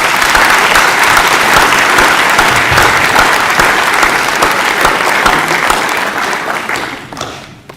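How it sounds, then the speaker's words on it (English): A large audience in a hall applauds at a sports awards ceremony. The clapping is loud and continuous for about seven seconds, then tapers off at the end. "a massive round of applause for Kate Young."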